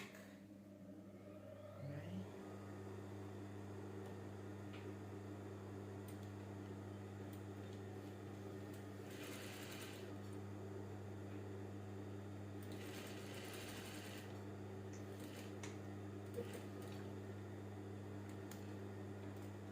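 A sewing machine runs steadily while top-stitching the neck of a boy's native top, giving a continuous close motor hum and whir that starts after about two seconds and lasts the rest of the time, with no talking.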